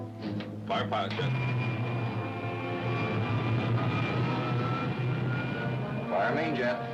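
Radio drama sound effect of an aircraft jet engine firing up, a loud sustained roar and whine with rising tones, with voices speaking over it.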